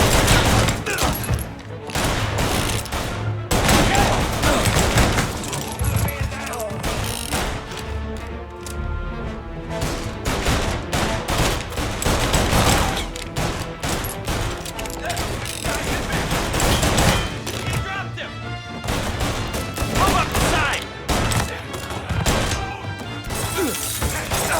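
Gunfire in the shooter game Mafia Definitive Edition fills the scene with a loud, continuous barrage of rapid shots, impacts and crashing, a dense firefight with no pauses.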